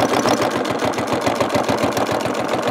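A sewing machine stitching background detail into a beach landscape thread painting runs in a steady, close, rapid mechanical rhythm with no voices over it.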